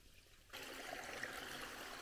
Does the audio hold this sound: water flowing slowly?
yes